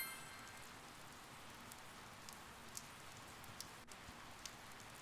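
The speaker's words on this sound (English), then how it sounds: "It started to rain." Steady rainfall in Persona 4 Golden, a continuous even hiss of falling rain with a few faint drip clicks scattered throughout and no voices.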